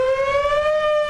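Outdoor civil defense warning siren sounding a steady, loud sustained wail with strong harmonics, unbroken and alone with no talk.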